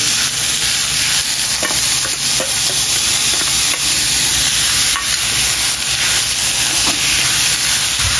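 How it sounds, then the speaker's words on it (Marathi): Onions and curry leaves fry in a pan with a loud, continuous hissing sizzle and occasional stirring scrapes. No one speaks. "कांदा बऱ्यापैकी आटलाय, अजून भाजला पाहिजे तो"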